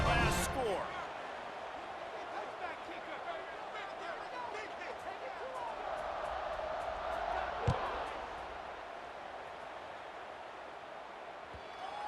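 A stadium crowd buzzes in a college football video game after a score, ahead of a kickoff: a steady broad murmur of many voices running under an announcer's commentary, with one brief thump near the end.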